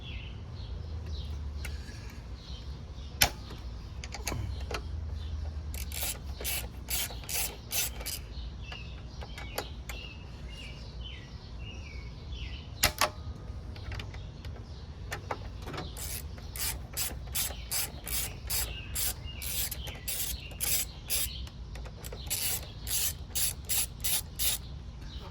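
A ratchet loosens the 12mm caliper bracket bolts on a Honda GL1500 Goldwing front wheel in long runs of rapid, even clicks, with occasional metallic knocks and quiet pauses between strokes.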